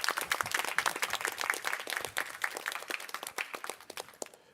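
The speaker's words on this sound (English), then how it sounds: "I would like to invite the other faculty members to applaud the audience" Conference audience at a talk on minds, artificial intelligence and ethics breaks into sustained, dense applause that fades slightly toward the end.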